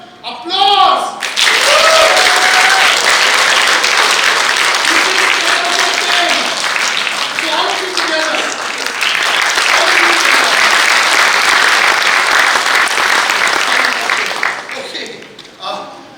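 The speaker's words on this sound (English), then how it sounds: "This entire row must give me a good applause." Sustained applause from an audience at a corporate employer brand awards ceremony in the Philippines, loud and continuous for about thirteen seconds before tapering off, with a voice speaking briefly at the start.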